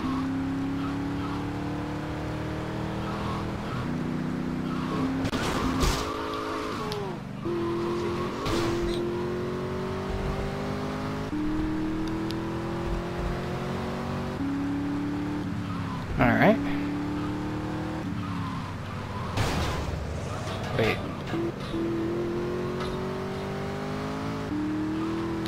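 The Infernus sports car in GTA Vice City runs hard at speed, its engine note repeatedly climbing and dropping through gear changes, with tire squeals and bumps, while a person talks over it.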